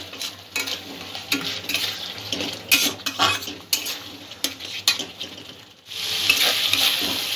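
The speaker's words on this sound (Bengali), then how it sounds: "মশলাটা কিছুক্ষণ একটু ভালো করে কষিয়ে নেব।" Masala with green peas for a vegetable korma is fried and stirred in a pan, with a soft sizzle under repeated scraping and clinking of a spoon against the pan. A brief pause is followed by a louder hiss near the end.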